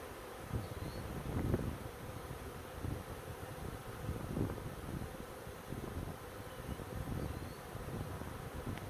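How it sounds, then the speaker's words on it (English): Swarm honeybees buzz and fan inside a catch box, a dense, steady drone close to the microphone with faint thumps of bees bumping against the box, no voices. "all those bees that are upside down, they're all fanning over the top of their backs"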